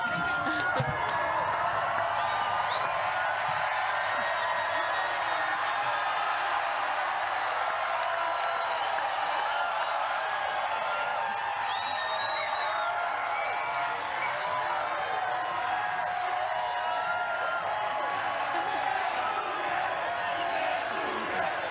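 A large US Open tennis stadium crowd cheers and applauds the women's champion in a steady, dense roar with clapping that runs the whole time, a few whistles rising above it and voices mixed into the din.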